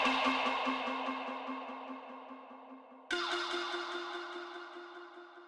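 A processed, pitched vocal tone rings out and slowly decays, then a second hit at a slightly different pitch, both trailing off with echoing delay.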